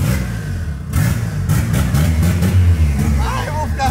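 A car engine revs in a loud, sustained mid-range drone with rising and falling surges, while voices talk over it.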